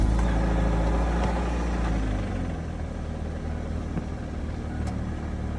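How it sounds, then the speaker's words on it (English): A cheap car idles steadily just after a new clutch was fitted, its low engine rumble close and continuous with a faint irregular knock, and no talking over it. "Start the car."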